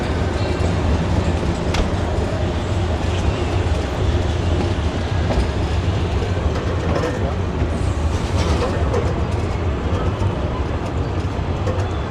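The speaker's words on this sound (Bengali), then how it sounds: "এই যে আমাদের ট্রেন বিনাপুল এক্সপ্রেস" The Benapole Express pulls into a platform at Kamalapur railway station with a steady, loud rumble of wheels on rails and carriage rattle that runs the whole time, with faint clicks and squeals above it.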